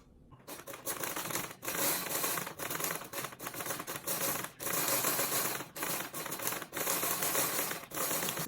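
A sewing machine stitches the edge of a welt pocket flap in fast, close mechanical bursts, pausing briefly between runs of stitching, with no voices.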